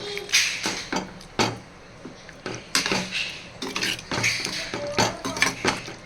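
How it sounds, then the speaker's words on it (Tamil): A spoon scrapes and clatters against a pan while mutton liver fry is stirred, in irregular repeated strokes and knocks, close and fairly loud with no talk. "இந்த மாதிரி நல்லா கிளறி விட்டுக்கோங்க"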